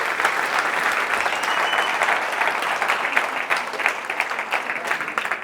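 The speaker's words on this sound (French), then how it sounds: "Applaudissez-le" An audience at an evening talk on hypnosis applauds warmly, a loud continuous wash of hand claps with individual sharp claps standing out, no speech on top.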